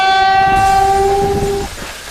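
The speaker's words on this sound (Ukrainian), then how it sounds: "а поїзд вже тут" A passenger train hauled by a 2ES5K locomotive arrives at a level crossing, sounding a loud, sustained horn blast for nearly two seconds over a heavy rolling rumble that keeps going after the horn stops.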